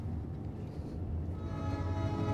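A train rumbles past in the horror game Fears to Fathom: Home Alone, a steady low roar that swells slightly toward the end, with a faint horn-like tone rising late, no voices over it.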